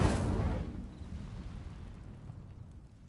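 Incendio fire spell cast in a Harry Potter video game, bursting out as a loud whooshing blast that fades into a lingering rumble.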